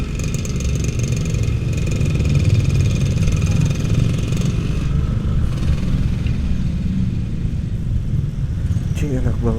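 A motorcycle engine drones steadily at a low, rumbling pitch, close and loud throughout while riding, with a voice talking over it.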